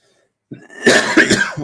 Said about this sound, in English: I hope I'm not coming down something with all this coughing